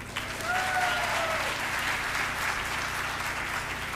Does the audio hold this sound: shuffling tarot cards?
no